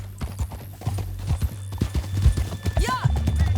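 Horse hooves clip-clop at a steady gallop in the Western game Red Dead Redemption 2, near and prominent, with a short whinny, game music and voices talking over the running rhythm.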